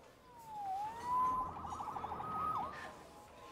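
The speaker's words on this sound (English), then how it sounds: "Saved by the siren." A police siren in Marvel's Spider-Man Remastered wails and sweeps in pitch, then switches to a rapid warbling yelp before rising again, moderately loud over a low background rumble.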